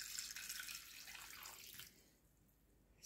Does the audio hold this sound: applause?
no